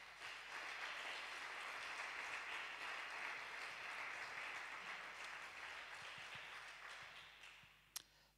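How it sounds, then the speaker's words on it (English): A congregation at a church service claps for a visiting man of God: a long, steady wash of applause that holds for several seconds and then slowly thins out. A single sharp knock sounds near the end. "Can we clap for our man of God in the house?"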